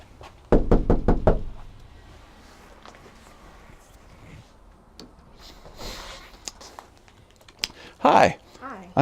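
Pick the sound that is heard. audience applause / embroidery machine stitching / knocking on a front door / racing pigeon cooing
knocking on a front door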